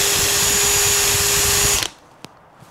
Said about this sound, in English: So we're just gonna re-drill these, drill these out as we can.